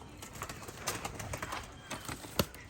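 Pet pigeons coo softly in a Turkish loft, a low murmur of several birds under room noise with a faint flutter near the end.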